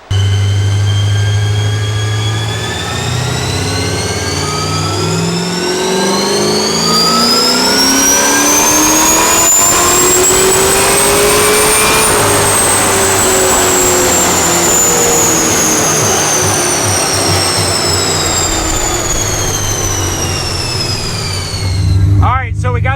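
Supercharged LSA engine in a 1967 Camaro on a dyno during a final pull, very loud and close, a rising engine scream climbing steadily to a peak and then winding down again, with a deep rumble underneath.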